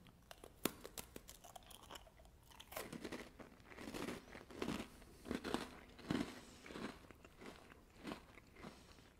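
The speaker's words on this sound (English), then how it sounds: "Those are really nice biscuits, not too sweet, nice and crunchy." Horlicks-flavoured biscuits are crunched close up, with crisp bites followed by a run of irregular chewing crunches, loud against a quiet background.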